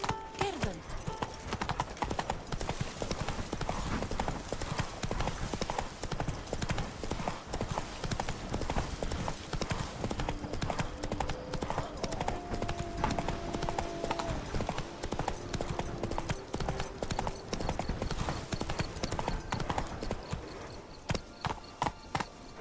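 Roach, the horse in The Witcher 3: Wild Hunt (Blood and Wine), walks with continuous rhythmic hoof clip-clops over game music and ambience, with an occasional snort or whinny.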